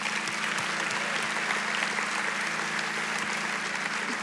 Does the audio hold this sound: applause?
yes